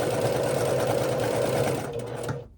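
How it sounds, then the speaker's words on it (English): A sewing machine stitches nested quilt pieces for a herringbone quilt, running in one steady, close, loud burst before it slows and stops near the end. "I can just slide that right into my machine and sew right down"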